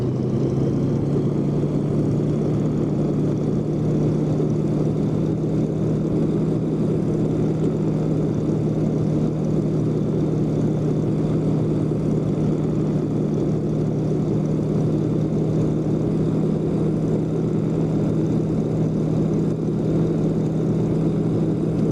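Propeller engine of a Yak-18T with the prop set full forward, in a flight simulator game during a flight in Germany, as a loud, steady drone with a constant low hum that continues unbroken throughout.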